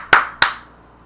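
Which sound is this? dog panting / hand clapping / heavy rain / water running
hand clapping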